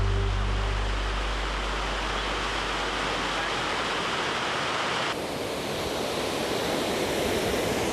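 Doupotang Falls, the widest of the Huangguoshu waterfall group at 105 m across, tumbles over sloping rocks with a steady, loud, dense roar that continues unbroken throughout, with no voices.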